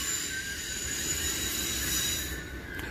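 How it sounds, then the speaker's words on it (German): A long-distance ICE 4 class 412 train of Deutsche Bahn, thirteen cars long, rolls past close by with steady rumble and a sustained high wheel squeal throughout. "unser erster ICE muss natürlich standesgemäß ein ICE 4 Baureihe 412 von DB Fernverkehr XXL 13-teilig ohne Klimaschützer und ohne Namen sein"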